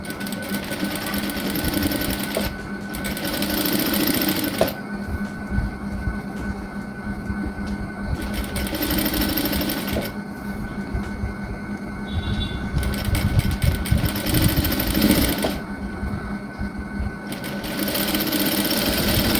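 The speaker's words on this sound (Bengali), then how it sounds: "এভাবে সেলাই দিয়ে বসিয়ে দেব" Sewing machine stitching fabric for a hijab, running in steady mechanical bursts with short pauses between seams, close and fairly loud.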